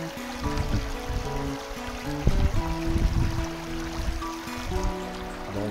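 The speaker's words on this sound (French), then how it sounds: "c'est parce que on a notre propre petit ruisseau direct à côté." A small mountain stream in the Adirondacks trickles and gurgles steadily nearby, with some lower tonal sounds mixed in underneath.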